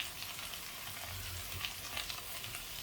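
Cauliflower frying in a pan, a steady close sizzle and crackle of hot oil with soft scattered pops and no talking.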